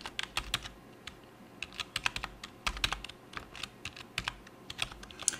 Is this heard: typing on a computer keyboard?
yes